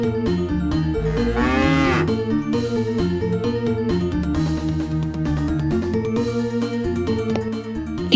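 Cattle in an animated story low in long, drawn-out moos, one rising call standing out early, layered over sustained tonal background sound with no talking.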